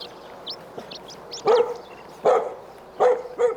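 A dog barks in a rural Korean village in Cheongju, three or four sharp, fairly close barks spaced about a second apart, with faint bird chirps and quiet yips in between.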